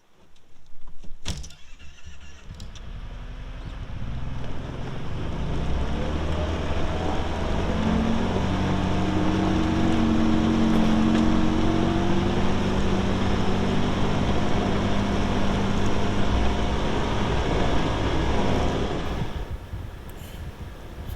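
A Kawasaki Teryx UTV grooming a trail with a homemade groomer rumbles close by after a sharp start, its engine droning steadily as it drives along and then easing off at the end.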